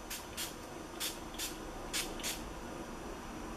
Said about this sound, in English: finish off with just dusting my face with the NYX